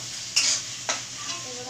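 Spice mix for ghugni with goat fat being stirred and fried in a pan, with two distinct scraping strokes of a spoon over a steady low sizzle.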